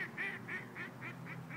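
Ducks quack in a quick, evenly spaced series of nasal calls, about six to seven in under two seconds, fairly close against a low steady background, with no talk.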